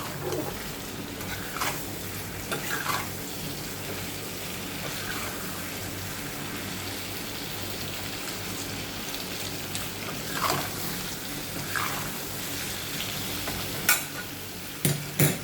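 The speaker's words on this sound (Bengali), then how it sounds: "একটু সবজিটা ভাজা ভাজা হোক" Vegetables sizzle and fry in a pan over a raised gas flame while being stirred and turned, a steady loud hiss broken by scraping stirs and a few sharp clatters near the end.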